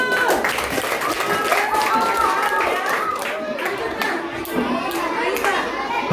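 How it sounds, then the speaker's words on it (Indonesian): Children clapping hands at a primary school Halal Bi Halal gathering, a busy patter of many small hands mixed with chatter and young voices, moderately loud and close, with an adult speaking over it. "Tepuk tangan dulu"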